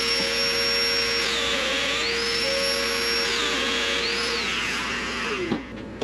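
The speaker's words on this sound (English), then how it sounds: "it probably works better to have a vacuum attached" A Festool Domino joiner with a vacuum dust extractor attached cuts mortises in wood for a desk, a constant close vacuum hiss with a motor tone rising and falling as the cutter plunges in and out, ending in a brief clunk.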